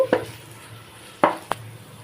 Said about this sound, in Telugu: కరివేపాకు, పుదీనా అన్నీ వేసేసి నీట్గా మిక్స్ చేసేయాలి